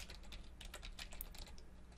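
Rapid, light keystrokes on a computer keyboard as a folder name is typed, a quiet close-up patter of clicks with no talking.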